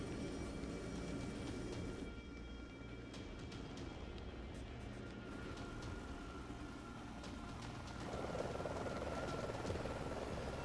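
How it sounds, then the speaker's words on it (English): Helicopter in the Yakuza 0 video game, a steady whirring rotor and engine drone that stays loud throughout and swells slightly near the end, with no talking over it. "I'm gonna shoot down your helicopter"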